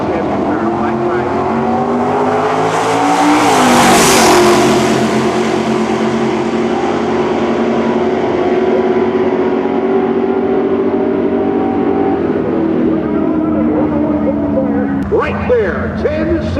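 A 1971 Chevy drag racing car roars down the strip at a March Meet, its loud engine note rising and then holding steady across the run, with an announcer talking over it throughout.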